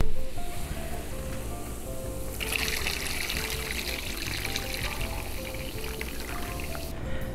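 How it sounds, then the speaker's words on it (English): Marinade pours and trickles steadily over chicken for several seconds, with a wetter splashing stream in the second half, over faint background music. "we're gonna combine it and pour it on our chicken"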